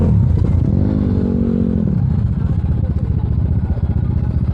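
Motorcycles rev nearby, one engine note climbing and holding in a rising whine before dropping off, followed by rougher idling and clatter amid outdoor crowd noise.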